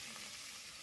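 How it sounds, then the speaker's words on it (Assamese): Onions fry in oil already used for half-fried potatoes, giving a soft, even hiss that is faint and steady for under a second, with no voices. "পিঁয়াজখিনি ভাজি ল'ব।"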